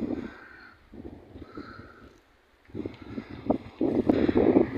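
Strong gusty wind buffets the camera microphone outdoors during pigeon flights, rumbling in uneven surges that grow louder and rougher toward the end.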